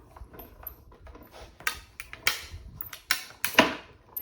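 A die-cutting machine gives a series of sharp snaps and small pops as dies and paper run through, irregular and fairly close, over a quiet mechanical background.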